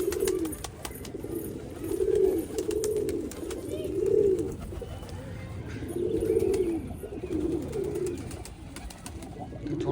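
Pigeons coo repeatedly at a loft, soft rolling coos rising and falling in several overlapping bouts, fairly close and steady over a low background murmur.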